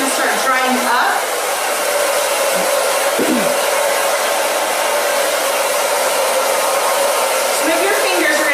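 A hair dryer runs continuously close by, blowing loudly while a girl's hair is dried, with a steady whooshing roar and faint speech briefly audible over it.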